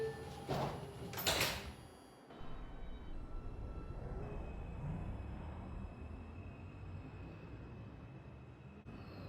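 Doors of an R142 subway train closing, a couple of sharp clunks and a brief door-motor rush at the start, followed by a steady rumbling hum of the train.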